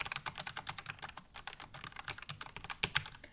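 Quick, soft typing on a Logitech MX Mechanical keyboard with quiet non-clicky switches, a steady patter of muted key presses with no sharp clicks, close and fairly quiet.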